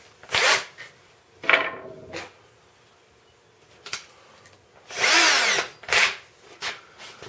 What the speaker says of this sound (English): Let me just go ahead and pre-drill that a little deeper.